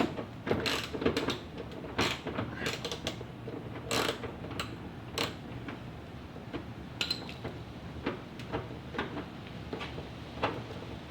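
Someone removes a 10mm bolt from the front bumper of a Cadillac CTS, with scattered sharp metallic clicks and ratcheting ticks in irregular bursts over a quiet background.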